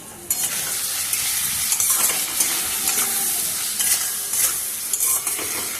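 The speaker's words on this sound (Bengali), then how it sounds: "আমি ভালো করে আবার নেড়ে চেড়ে ভালো করে মিশিয়ে নেব" Mango and katla fish curry with salt and turmeric being stirred in a pan, a steady frying sizzle with repeated scraping and clinks of the spoon against the pan, close and clear.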